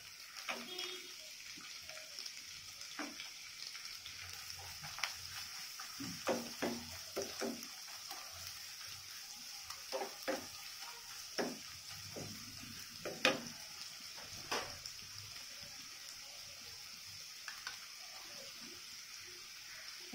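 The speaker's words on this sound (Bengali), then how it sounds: "পেঁয়াজ কুচি ছেড়ে দিলাম তেলের মধ্যে" Chopped onion hits hot oil in a home kitchen pan, giving a soft steady sizzle with scattered crackles and stirring clicks, fairly quiet and close.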